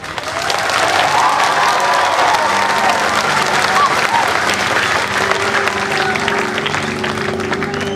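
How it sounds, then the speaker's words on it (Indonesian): Steady, full applause from a congregation at a revival church service in Mamasa fills the whole stretch, loud and even, with a faint tonal hum joining in the latter half. "Kok tepuk tangannya tanggung-tanggung sih?"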